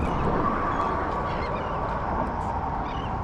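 Nesting geese honk in a dense, steady chorus of many overlapping calls, moderately loud and continuous, heard outdoors at a fishing spot near New Orleans with no talking.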